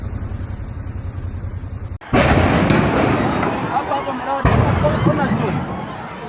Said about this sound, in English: A series of terrifying explosions ripped through the air, shaking the ground and sending shockwaves across the area.